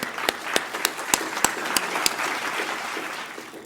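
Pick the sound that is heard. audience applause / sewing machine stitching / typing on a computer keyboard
audience applause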